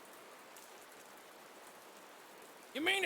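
Steady rain patters evenly across the scene during a tabletop fantasy role-playing session, a soft constant hiss that ends with a brief burst of voice near the close.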